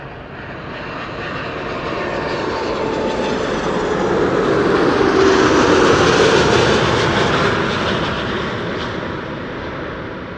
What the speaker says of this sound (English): Another airplane coming in from Istanbul after this.